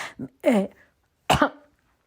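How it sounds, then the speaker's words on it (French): Two short, close coughs with a brief pause between them, each a harsh burst of breath, in an otherwise quiet room. "ça m'a fait tousser"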